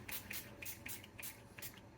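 NYX Plump Finish setting spray is pumped in quick repeated bursts, about seven soft, hissing spritzes in an uneven rhythm, close and quiet.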